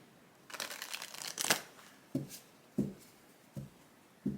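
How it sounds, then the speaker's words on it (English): Tarot cards are riffle-shuffled in a quick rustling run, then squared with several soft taps at a steady pace, close up and without speech. "I have to get a clean shuffle"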